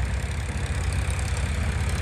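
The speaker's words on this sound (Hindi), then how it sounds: "अब ट्रैक्टर की आवाज़ सुनना, ट्रैक्टर का काम देखना।" A Farmtrac 45 tractor engine runs at a steady low, throbbing chug, heard alone at a moderate level with a continuous rumbling pulse.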